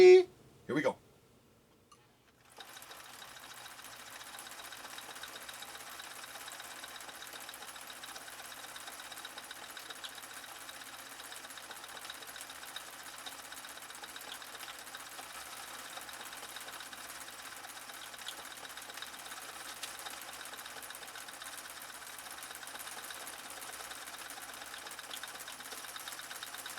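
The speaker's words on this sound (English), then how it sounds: "Just listen to Julie's machine run. It is silky" A Husqvarna Viking 2000 sewing machine runs smoothly and steadily for a long stretch after a few brief knocks, a quiet even whir in a near-silent workshop.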